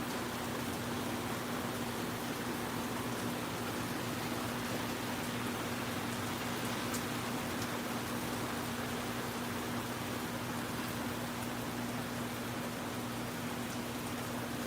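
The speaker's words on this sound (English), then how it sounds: "Lord, this rain done came back" Rain falling steadily outdoors, a soft even hiss with faint patter and a low constant hum underneath, continuous and fairly quiet throughout, with no talk.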